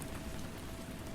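Rain falls as a soft, continuous hiss of drops, steady and faint throughout, with no talking.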